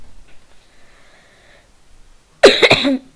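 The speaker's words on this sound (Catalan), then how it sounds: "tinc una miqueta de tos" A single burst of hoarse coughing, close and loud, after a few seconds of faint low murmuring.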